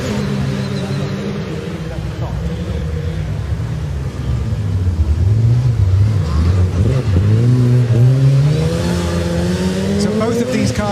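Two orange-and-black race cars driven by Vettel and Mick Schumacher launch off the start line at a Race of Champions event, engines revving hard and climbing in pitch, with a commentator talking over them.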